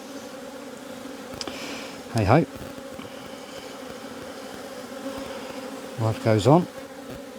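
Honey bees in an open, slightly aggressive hive give a constant close buzzing drone throughout, while someone speaks briefly twice over it.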